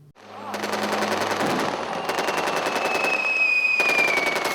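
Rapid machine gun bursts rattle loudly through an army infantry field training exercise, long rolling strings of shots with a high whine running underneath, close and dominant from start to finish.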